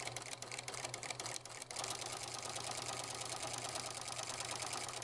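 A sewing machine fitted with a walking foot stitches down the binding along a quilt edge, a steady rapid mechanical whir running continuously, with a brief slowdown near the start before settling into an even hum.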